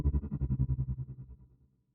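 A whale-call sample processed with a pulsing modulation effect in the style of Star Wars sound design: a low, throbbing tone wobbling in rapid regular beats that fade out over about two seconds.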